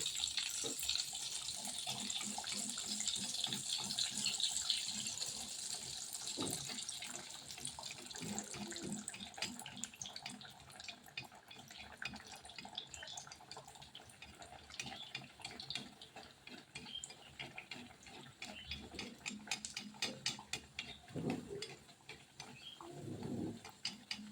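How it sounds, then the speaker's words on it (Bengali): A puri dropped into hot oil sizzles with a steady, faint crackling hiss and scattered pops, heard close with no talking. "এখন আমি একটা পুরি তেলের মধ্যে দিয়ে দিব"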